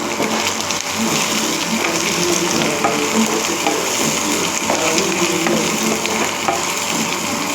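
Curry leaves and green chillies fry in hot oil with a steady, dense sizzle and crackle that runs loud and unbroken from start to finish, with no talking.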